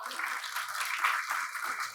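An audience at a live kavi sammelan poetry event in Chandigarh clapping, a steady wash of applause filling the short moment with a little talk mixed in.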